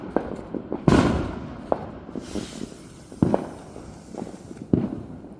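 Fourth of July fireworks go off outdoors at night, sounding as scattered pops and a few heavier booms spaced a second or two apart, with no talking.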